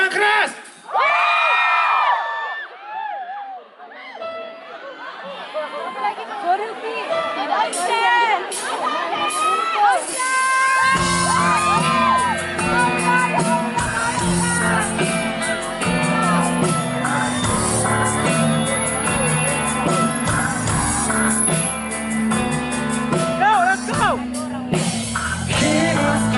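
A concert crowd at a show cheers, shouts and whoops loudly for the drummer, and the band's drums and music come in partway through under the ongoing crowd noise.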